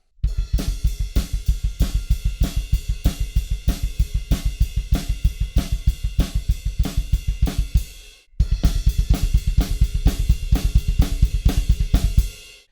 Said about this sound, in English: we just continue that same double kick beat while the guitar solo stretches out